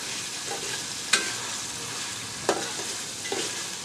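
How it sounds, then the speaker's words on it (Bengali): Eggplant pieces fry in a pan for a village-style coral fish curry, a steady soft sizzle with a few sharp spoon-on-pan stirring knocks, close and fairly quiet, no voices. "বেগুন দিয়ে আমি দু মিনিট রান্না করব"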